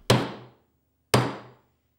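A hammer strikes a roughly made 5mm steel transfer punch to mark hole centres for aluminium. Two sharp, ringing metallic blows land about a second apart, close and loud, with no talking.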